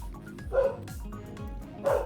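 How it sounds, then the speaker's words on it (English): A dog gives two short, fairly faint barks about a second apart, heard indoors in the background over low rumbling noise. "My dog is barking in the background."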